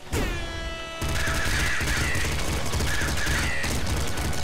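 Rapid stream of a spammy Tech 9-like assault pistol in the Nuclear Throne Ultra Mod video game, loud continuous bursts filling the clip after a brief opening chime, with layered game effects.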